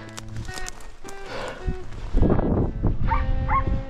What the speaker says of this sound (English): Oh, I can hear Poe barking.